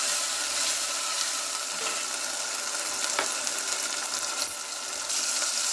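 Ginger-garlic paste fries in a pan for a chicken curry with peas, giving a steady, close sizzle. Occasional scrapes and light clinks come as it is stirred.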